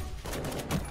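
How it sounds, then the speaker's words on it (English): Shotgun firing in Fallout: The Frontier mod, a quick pair of muffled blasts within a second, moderately loud. "So this is a shotgun, right? And I'm like sniping people with this shotgun."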